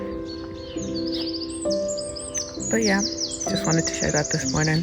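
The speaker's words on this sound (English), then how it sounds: "you can hear the birds chirping" Birds chirp and trill close by in the French countryside in clear repeated phrases while a person talks over them.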